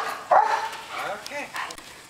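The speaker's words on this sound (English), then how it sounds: "A dog" A dog on a buffalo ranch barks excitedly at a golf cart, one sharp close bark followed by a few quicker yips, with people talking over it.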